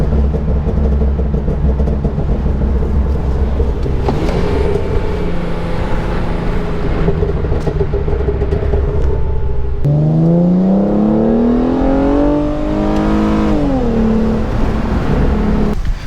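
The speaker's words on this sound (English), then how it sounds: "That exhaust sounds amazing" A custom-tuned Hyundai Genesis Coupe 3.8 on the road: a loud, constant exhaust drone with a couple of sharp pops, then the revs climb and fall in a strong rising sweep near the end.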